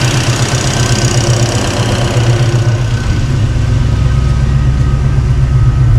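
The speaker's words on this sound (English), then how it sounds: "Come back and listen to the exhaust on this thing." A car with Holley Sniper 2 EFI fuel injection idles steadily, its exhaust a low, even rumble with a constant hum, heard up close and alone.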